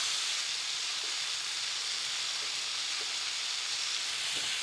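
Onion and garlic frying in a pan give off a steady, bright sizzle and hiss that fills the whole stretch evenly and close up, with no talking.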